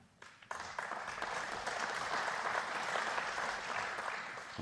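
Audience applause at a snooker final in the Australian Snooker Open breaks out suddenly after a brief quiet moment and carries on as a steady, dense clapping through to the end.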